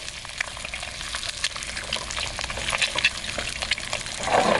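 Eggs frying in a non-stick pan: a continuous crackling sizzle with scattered pops and a steady hiss, close and moderately loud, getting a little busier toward the end, with no talk.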